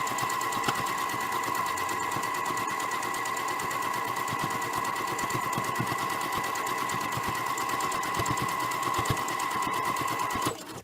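A sewing machine runs continuously for straight-line quilting, giving a steady rapid mechanical whir with a fast needle clatter that stops abruptly at the end. It is close and constant, with no voices.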